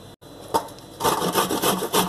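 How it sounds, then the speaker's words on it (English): Fresh ginger rubbed against a metal grater held in a stainless steel pan makes a rapid, rhythmic scraping rasp, close and fairly loud, that picks up strongly in the second half after a brief hesitation. "I'm gratering away"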